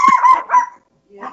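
Short dog barks from a dog named Chauncey, two quick close yaps followed by a brief pause and a softer trailing sound.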